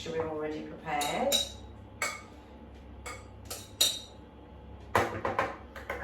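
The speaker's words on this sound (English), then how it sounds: "we'll scrape all that into the mixture we've already prepared" A spatula scrapes and taps a dish as a cooled fruit mixture for a simnel cake goes into the batter. The scrapes and clinks come in scattered bursts, and a voice speaks in between.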